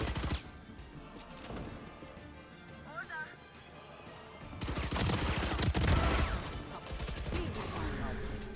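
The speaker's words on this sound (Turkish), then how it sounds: "Allah adamı koşarak taramak zorunda kaldım" Rapid gunfire sprays in bursts in Valorant while the player runs, crisp cracks mixed with footsteps and game effects, with a voice talking over parts of it.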